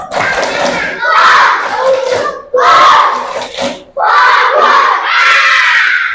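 A school class performs the 'tepuk fokus' clapping chant, children's voices shouting the rhythmic chant in loud bursts with claps mixed in, the whole group close and energetic.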